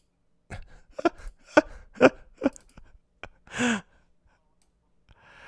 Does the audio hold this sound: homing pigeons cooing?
no